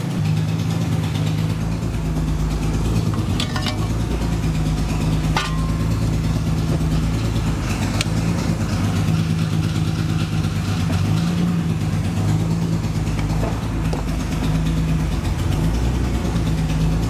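A BMW E30 M3 with an S54 engine idles steadily and loudly with a deep, even drone, and a faint rhythmic ticking from an exhaust leak runs under it throughout.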